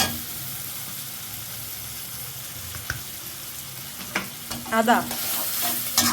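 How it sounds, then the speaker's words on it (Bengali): Garlic and ginger frying in oil in a pan, a steady close sizzle running throughout with stirring scrapes and louder crackles near the end, while one brief spoken word passes. "এটা আবার 1 মিনিট একটু কষাই নিই, তাহলে কাঁচা গন্ধটা আর থাকবে না।"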